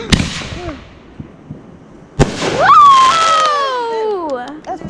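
Fireworks bursting outdoors: a sharp bang near the start, then a second loud report followed by long crackling and whistling trails that fade over several seconds, with bystanders talking faintly in the background.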